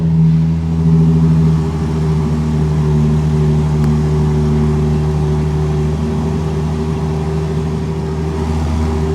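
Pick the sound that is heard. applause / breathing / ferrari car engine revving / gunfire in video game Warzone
ferrari car engine revving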